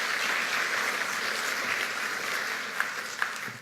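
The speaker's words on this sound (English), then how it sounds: "Round of applause for Kirsten and crew." A crowd applauds steadily and fairly loudly at a tech event, the clapping continuing unbroken before tapering off at the end.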